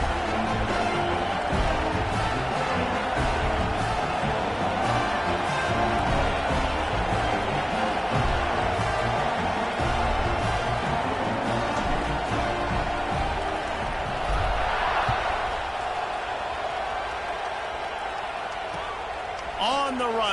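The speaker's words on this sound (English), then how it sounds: "this crowd is buzzing after that last score" A stadium crowd buzzes steadily through a college football video game matchup between Penn State and Georgia, a loud continuous roar that holds for the whole stretch, swelling briefly near the end, with commentary running over it.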